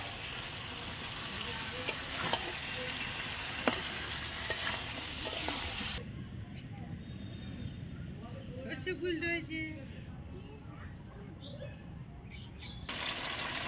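Fried chicken pieces sizzle and hiss steadily in a hot pan while being stirred for a Bengali-style chicken leg curry, a dense close crackle under a speaking voice, briefly dropping away partway through before returning.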